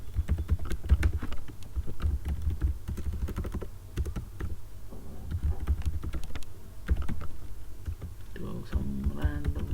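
Password being typed on a computer keyboard, a rapid, irregular clatter of close keystrokes in short bursts with brief pauses, continuing steadily to the end.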